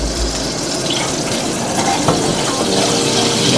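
Cooking oil sizzles steadily in a pan at close range, a dense, even hiss with a faint bubbling texture and no talking.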